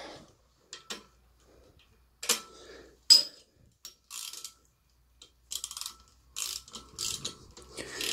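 A ratchet turns a 14mm socket clockwise on a Ford Mustang 4.2/3.8 V6 harmonic balancer: scattered bursts of close, crisp metallic clicking in short strokes with pauses between them.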